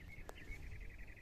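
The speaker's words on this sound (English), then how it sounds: "very quiet, you can hear the birds," Faint bird calls in a quiet yard with a braai area, thin repeated chirps drifting over low background hum in a calm outdoor setting.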